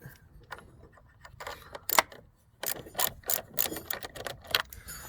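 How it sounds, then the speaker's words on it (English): A 10 mm socket on a ratchet loosens the battery hold-down bracket of a 2012–2017 Buick Verano, giving bursts of quick, close mechanical clicking with short pauses between them. "Now you can proceed to unscrewing this one. It's also socket number 10."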